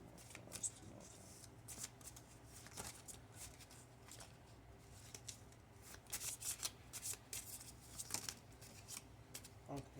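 A deck of tarot cards is shuffled over and over, giving repeated papery riffling bursts close up in an irregular rhythm throughout, with faint speech at times.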